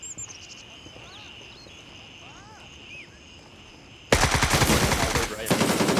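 Rapid automatic gunfire in the military shooter Gray Zone Warfare bursts in loudly and close after a quiet stretch of chirping insects, a dense rattling volley with a brief gap before it continues.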